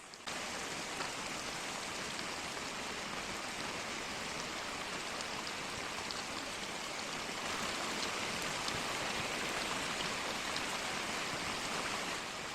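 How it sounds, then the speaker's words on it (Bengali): Hilsa fish and taro curry boils hard on a high flame, a steady close hiss and bubbling wash that holds evenly throughout with no voices. "মাছগুলো দেওয়া হয়ে যাওয়ার পর আমি 10 মিনিটের জন্য হাই ফ্লেমে এটাকে ভালো করে সিদ্ধ করে নেব।"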